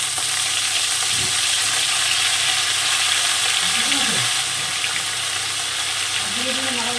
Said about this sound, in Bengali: শাকটা দিয়ে আমি একটু নাড়াচাড়া দিয়ে নিয়েছি